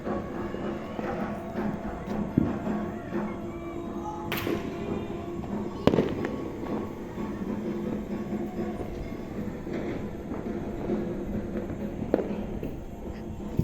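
Diwali firecrackers pop and thud at irregular intervals amid a dense, rumbling outdoor din, with a few sharper bursts standing out over the constant background.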